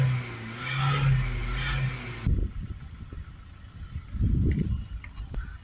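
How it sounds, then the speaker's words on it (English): A voice speaks at first, then a Honda Accord 2.2 diesel engine with a restricted, ash-clogged particulate filter rumbles and revs in uneven surges, rising and falling a few times before settling. "Give it a few revs to clear out the smoke."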